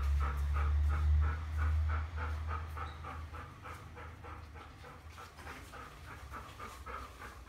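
A Kerry Blue Terrier puppy pants quickly and steadily at close range, a rhythmic series of short breaths continuing throughout with low rumbling underneath.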